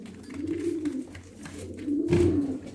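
Pigeons coo softly at an open-air bird market in Edirnekapı, Istanbul, two low rolling coos over a steady background hum.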